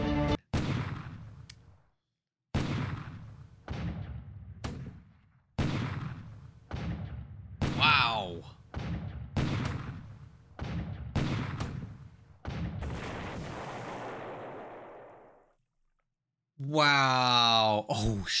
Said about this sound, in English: so this bombardment's happening during the daytime